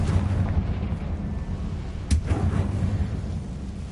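A magical blast spell goes off in a Harry Potter video game, a deep rumbling boom with a sharp crack partway through over a dense low roar, close and loud.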